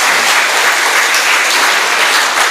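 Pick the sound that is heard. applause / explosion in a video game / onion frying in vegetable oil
applause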